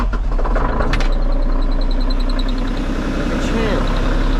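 A cold Kubota KX033-4 mini excavator's diesel engine idling in freezing weather, a steady low rumble with a brief rise near the start, close and constant throughout.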